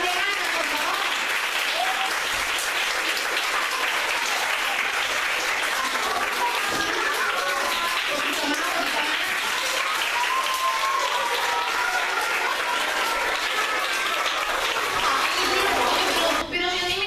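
A theatre audience at a children's stage show applauds continuously, a dense, loud, even wash of clapping that fills the whole stretch without pause.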